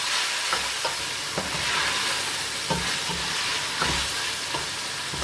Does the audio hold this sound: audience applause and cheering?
no